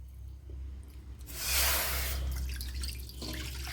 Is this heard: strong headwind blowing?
no